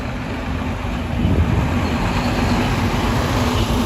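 Inside a Midtown Manhattan train station in New York City, a constant low rumble and hum of rail traffic and machinery carries steady, moderately loud background noise without speech.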